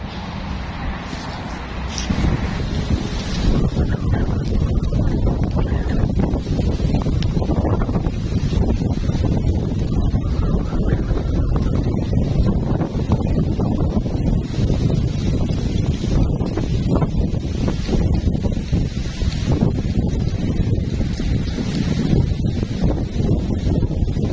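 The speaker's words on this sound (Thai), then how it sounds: "เมื่อกี้ ลมพายุมาอย่างแรงเลย" Strong storm wind gusting outdoors during a fishing trip on a dark, rain-threatening day, a steady loud roar buffeting the microphone for the whole stretch with no voices.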